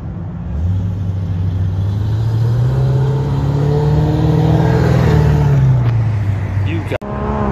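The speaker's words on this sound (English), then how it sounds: "It's a race car." A race car engine revs up into a sustained high-pitched roar, then drops off, ending with a sharp click.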